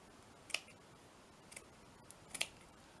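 Scissors snip the corners off a paper postcard envelope in several quiet, close crisp cuts, spaced about a second apart with a short double snip near the end.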